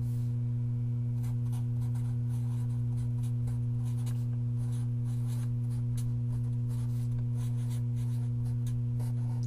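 A pen or marker writes by hand during a math lecture on set complements, producing soft, intermittent scratching strokes over a constant electrical hum.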